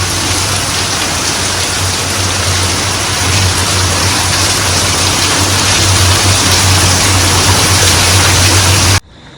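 A heavy downpour of rain roars in a continuous, dense wash of hiss, close and loud, for several seconds before cutting off abruptly at the end, with no talking.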